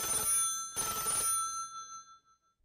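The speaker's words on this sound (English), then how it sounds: "10 minutes later, the telephone rang." A telephone rings in a prison warden's office in a narrated story, two loud bursts of bell ringing about three-quarters of a second apart, then a ringing tail fading out.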